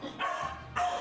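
A couple of short dog barks, fairly close and moderately loud, separated by a brief pause.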